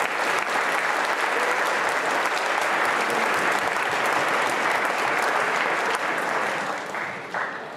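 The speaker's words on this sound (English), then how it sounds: "give a big round of applause for the Mills String Quartet" A school audience applauds the Mills String Quartet at a 2012 winter concert, with steady, dense clapping from a full hall that holds strong for several seconds before thinning slightly at the end.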